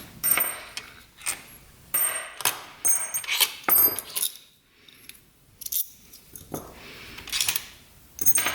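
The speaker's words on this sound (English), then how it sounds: "all these bolts" Loose metal bolts from the engine cases of a 1980s barn-find dirt bike being handled and dropped, giving sharp metallic clinks and jangles in separate bursts with short quiet gaps between them.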